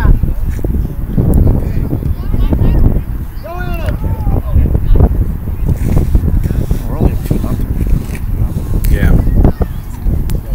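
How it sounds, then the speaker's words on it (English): Strong wind buffets a microphone at an outdoor youth soccer match, a constant low roaring rumble that runs underneath people talking and calling out throughout. "There's a lot of wind."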